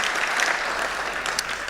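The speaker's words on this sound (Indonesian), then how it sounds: "Berikan tepuk tangan kita untuk Tuhan kita." A church congregation claps together in a short burst of steady applause, moderately loud and evenly spread, heard on its own without talking.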